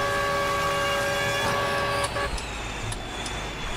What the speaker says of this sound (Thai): เสียงแตรนึกว่าเสียงวีดนะครับ